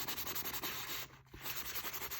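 A sanding block rubs back and forth over a shiny Tim Holtz craft embellishment in quick, steady scratchy strokes, close and fairly quiet, pausing briefly midway before resuming, with no talking.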